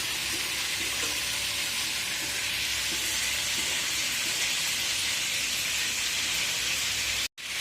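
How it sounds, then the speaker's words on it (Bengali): Spice masala sautéing in a hot pan for a fish roe and eggplant dish, a loud, steady sizzle and hiss that runs unbroken and then cuts off abruptly near the end. "ভালোভাবে মশলাটা কষাই নিব।"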